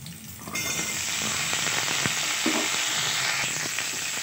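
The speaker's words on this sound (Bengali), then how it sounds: "আলুটা একটু জাস্ট শ্যালো ফ্রাই হবে।" Potato pieces shallow frying in hot oil, a continuous loud sizzle with occasional stirring scrapes and pops, and no talking.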